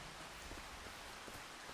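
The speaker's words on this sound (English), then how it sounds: "it is hosing down and it's been raining all morning" Heavy rain pours down on a field in Farming Simulator 25, a continuous, even hiss of dense rainfall with faint scattered drop patter and no talking.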